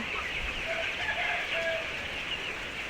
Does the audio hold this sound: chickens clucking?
yes